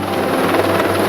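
Netcare 1 aeromedical helicopter running up before lift-off, a loud steady rotor and turbine drone with rhythmic blade pulsing, brief and close.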